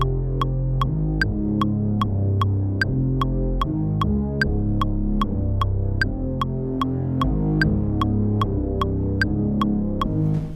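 Synth pattern grimed up with Camel Crusher saturation for Subtronics-style sound design, a loud distorted bass line in stepping notes under a bright, evenly spaced ticking pulse, looping steadily without pause.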